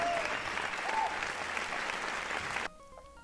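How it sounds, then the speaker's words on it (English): Loud, dense audience applause with steady clapping and crowd noise, cut off abruptly near the end and followed by near silence. "Let's listen to the audience applause for this game."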